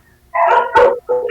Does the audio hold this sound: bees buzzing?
no